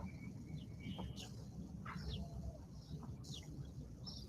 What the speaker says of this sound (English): Can you hear the birds? Aren't they lovely?